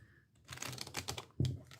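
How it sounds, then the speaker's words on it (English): A tarot deck is shuffled by hand in a quiet room: a brief, soft papery riffle that ends in a sharper snap of cards near the end. "Let me just shuffle the deck once."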